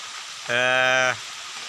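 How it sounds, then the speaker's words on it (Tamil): Heavy rain pours down outdoors near palm trees as a steady, loud broadband hiss, briefly overlaid by a short sustained vocal sound in the middle. "பாருங்கள் ஃபுல்லாக மழை பெய்யுது"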